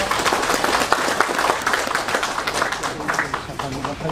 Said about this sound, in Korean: 이승주 영동군 의회 의장님 박수로 환영해 주십시오.